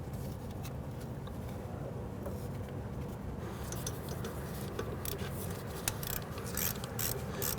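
A brake hose bolt being tightened on a Nissan Quest with a ratchet, giving faint rapid clicking that grows busier toward the end.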